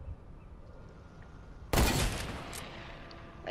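Gunfire in a video game, one sudden loud blast with a brief, noisy tail that fades over a second or two, following a quiet stretch.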